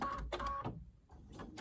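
A sewing machine back stitches the ends of a soft fabric face mask, giving short, quiet mechanical whirring bursts separated by a pause.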